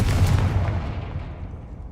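A Confringo fire spell blast in the video game Hogwarts Legacy, a booming explosive impact that decays into a rumbling tail over about two seconds.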